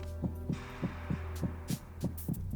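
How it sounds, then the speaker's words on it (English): A steady, thumping heartbeat pulses at an even pace over a low hum, with a few faint higher noises near the end, from the video game Metal Gear Solid 2. "Maybe I needed the heartbeat."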